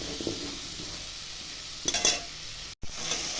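Potatoes, radish and tomato fry in a pan with turmeric and salt, a steady close sizzle with brief stirring scrapes and a short break near the end.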